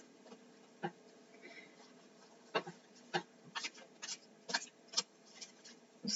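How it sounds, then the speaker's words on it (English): Tarot cards are shuffled by hand, giving soft irregular riffling snaps and brief papery clicks close by, with quiet pauses between bursts. "So I will shuffle."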